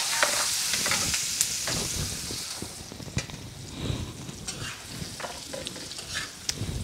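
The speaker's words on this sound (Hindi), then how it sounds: "मिर्चें हो गई हैं अच्छी तरह से फ्राई हो गई हैं और सॉफ्ट हो गई हैं" Green chillies sizzle steadily in hot oil in a home kitchen pan for mirchi ka salan, with a spoon scraping and stirring through them in irregular close taps and scrapes over a constant frying hiss.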